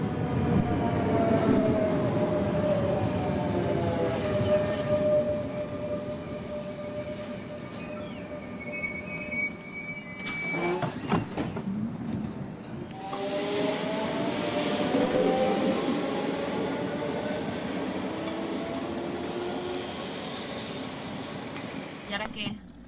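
A passenger train runs steadily near the Cabanyal station in Valencia, with rumbling wheels, a sharp squeal midway and rising motor whine, under a continuous noisy carriage interior.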